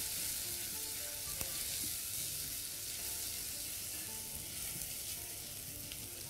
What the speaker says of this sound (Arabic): حطينا دلوقتي الثوم، بس تقليبتين مش عايزين الثوم